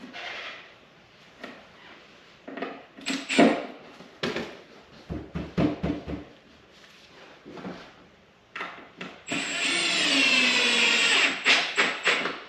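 Several short bursts from a power drill drive 2-inch GRK trim-head screws into wood framing in a pantry built between wall studs, the bursts broken up by clunks and handling, then one longer whining run near the end, all heard close.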